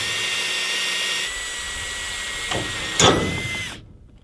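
A power drill whines steadily while drilling holes, shifts pitch partway through, and gives a couple of sharp bursts before cutting off abruptly as the drill bit breaks.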